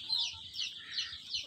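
Chickens on a poultry farm cluck in short, repeated bursts, fairly close and moderately quiet, with no talk over them.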